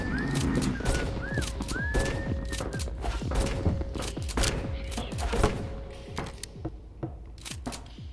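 Rapid bursts of video game gunfire crack in quick succession, sharp and close, with short pauses between volleys and tonal whistles from the game in the background.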